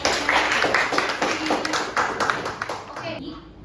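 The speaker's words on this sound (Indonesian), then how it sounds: "tepuk tangan lagi" Hands clap together in a small group during a classroom roleplay, a busy patter of claps that fades out at the end, with voices talking over it.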